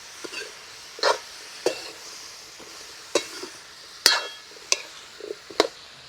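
Spices being sautéed in a pan for watermelon rind curry, with quiet sizzling and sharp spoon-scraping strokes repeating at irregular intervals, close and fairly soft, with no talk.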